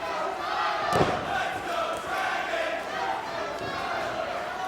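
Pro wrestling arena crowd chants in a steady roar, split in support between two wrestlers early in a match, with one sharp thud near the start.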